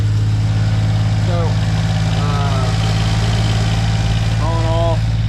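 A Honda Acty engine idles loudly and steadily nearby after an oil leak repair, a constant low rumble as someone speaks briefly over it.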